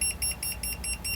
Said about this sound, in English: When it's beeping like that, it's because it's not level.